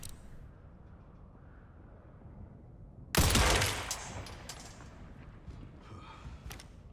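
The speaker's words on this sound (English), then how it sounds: "I can do some early zombie shooting" Gunfire from the video game Resident Evil Requiem as zombies are shot: a loud burst of rapid shots erupts after a quiet stretch, followed by a few scattered sharper shots and softer thuds.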